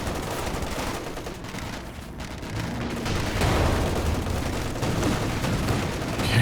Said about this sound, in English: Oh, there's actually a machine gun back there as well.